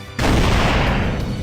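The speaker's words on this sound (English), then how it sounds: "She fired immediately and her body arched back from the shock." A gunshot blasts from the Major's prosthetic battle arm in the video game The Alchemist of Ars Magna: a sudden loud, dense burst that keeps roaring at full strength for over a second.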